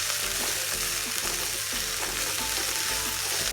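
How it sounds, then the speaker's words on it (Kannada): Dill leaves sizzling and frying steadily in a hot pan with onion and curry leaves, a loud continuous crackle broken by soft stirring scrapes and no talk. "ಸಬ್ಬಸಿಗೆ ಸೊಪ್ಪನ್ನು ಹಸಿ ವಾಸನೆ ಹೋಗೋವರೆಗೂ ಫ್ರೈ ಮಾಡ್ಕೋಬೇಕು"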